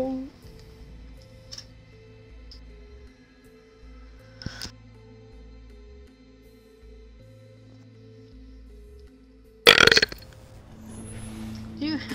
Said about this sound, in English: You have to burp out loud.